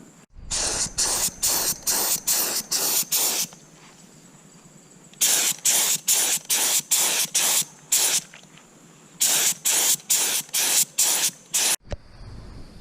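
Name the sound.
air sprayer spraying paint on a school bus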